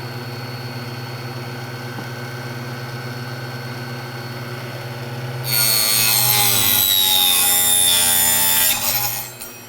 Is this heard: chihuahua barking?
no